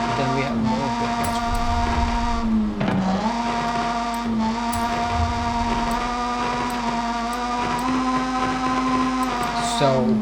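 Mazda RX-7 FD rotary engine in Forza Horizon 5, holding a steady high-revving buzzy drone with a brief dip and recovery near the start, loud and continuous with no talk.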